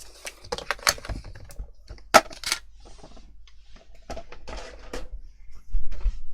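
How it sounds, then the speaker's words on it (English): A Fiskars bypass paper trimmer at work on a craft project, with scattered clicks and sliding, rasping bursts at close range, a few sharp snaps, and a louder scrape at the end. "Use my trusty Fiskars bypass trimmer here."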